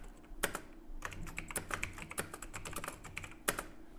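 Rapid typing on a computer keyboard, dense close key clicks in an uneven rhythm with a few louder strikes, and no talking.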